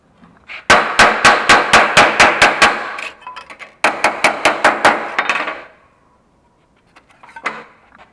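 A hammer strikes a freshly welded seam on 18-gauge steel sheet, a quick run of about nine sharp metallic blows, a short pause, then another burst of six, with softer taps at the end.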